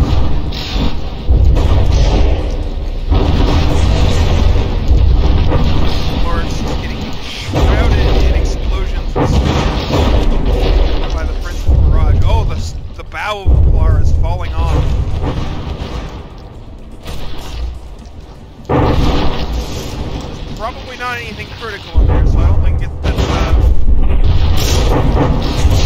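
Artillery shells from warships in the From the Depths naval battle game boom and thud in steady loud volleys with mechanical creaks between, a dense barrage filling the whole stretch.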